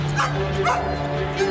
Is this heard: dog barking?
yes